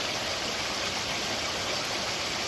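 Water rushes steadily at Table Falls near Driftwood, Pennsylvania, where a waterfall feeds a stream, making a constant broad hiss nearby with no voices.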